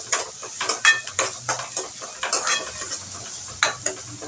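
Onions sauté over a raised flame while a spatula stirs and scrapes the pan in quick, rhythmic strokes over a soft, steady sizzle, heard close up.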